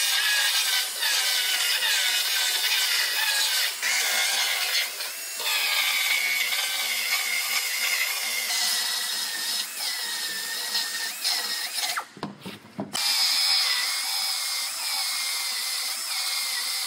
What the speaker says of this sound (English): So I'm gonna go ahead and start cutting this outer panel off.